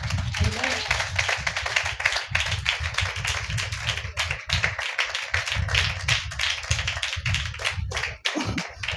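A church congregation claps hands in quick, sharp rhythmic taps that run steadily for several seconds, close and fairly loud, mixed with voices.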